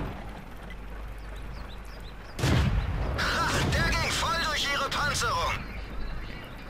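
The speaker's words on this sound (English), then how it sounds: "I have to get some shots out there before I still die" Tank gun fire in World of Tanks from a Pz.Sfl.IVc: one heavy booming shot bursts out midway, followed by rumbling battle noise and engine drone, while someone talks over it.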